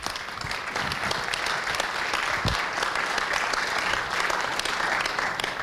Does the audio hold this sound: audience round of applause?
yes